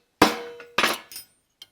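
Two sharp hammer blows on a center punch into steel, each with a brief metallic ring, followed by a lighter tap and a small final tick.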